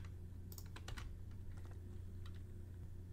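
Rapid clicking of keys on a computer keyboard as code is typed, irregular bursts of keystrokes close by over a steady low hum, no voices.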